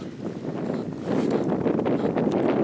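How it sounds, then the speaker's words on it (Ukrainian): Gusty wind buffets the microphone outdoors during metal detecting in a field, with a low, rumbling roar that swells louder partway through and stays strong to the end. "Трошки вітер заважає."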